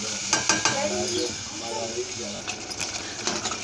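A spoon scrapes and clinks around a pan of tamarind pulihora as it cooks down, with a steady soft sizzle, irregular stirring knocks and a faint voice in the background.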